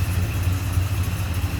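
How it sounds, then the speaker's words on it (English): A 1968 Oldsmobile 442 hardtop with its Rocket 400 V8 runs at a steady idle with the hood open, a close, continuous low rumble with no revving and no voices. "I want you to be able to see the engine running."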